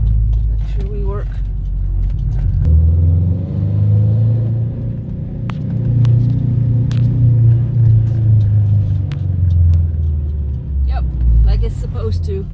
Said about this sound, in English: Drive around the parking deck with y'all.